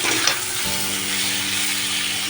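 Papaya and rohu fish curry stirred in a pan, a steady broadband sizzle with a few soft scraping strokes near the start, close and continuous with no voices.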